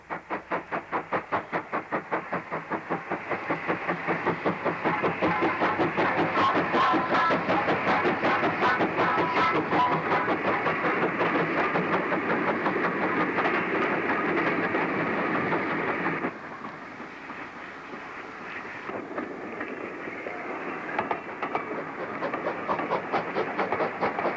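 A steam train runs along a Lancashire railway line, with rhythmic chuffing beats and rail clatter building and holding steady, then dropping to quieter intermittent clanks near the end.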